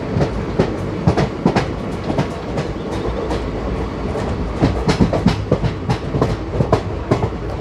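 Another train passing close by, heard from aboard the Prerna Express, with a dense rumble and a rapid, irregular clickety-clack of wheels over rail joints throughout.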